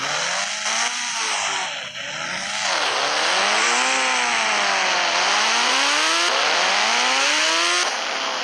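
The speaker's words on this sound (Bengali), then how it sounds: "বাইকটা তো হেভি জোরে চলছে।" Kawasaki Ninja motorbike engine in a 3D bike racing video game, heard as a loud, continuous synthetic engine whine rising and falling in pitch through repeated acceleration sweeps and gear changes, with no voices.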